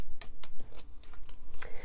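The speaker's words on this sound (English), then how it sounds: "They're so hard to shuffle." Tarot cards being shuffled by hand, a quick series of soft riffling bursts and slaps, close and fairly loud over about two seconds.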